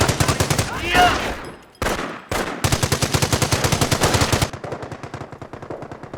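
Rapid, loud machine-gun bursts rattle in a steady rhythm as a rifle squad comes under fire in the Company of Heroes video game, with a couple of short pauses and the volleys growing a little more distant toward the end.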